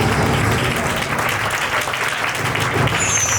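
A praying congregation claps loudly and continuously in worship, a thick unbroken roar of many hands close by.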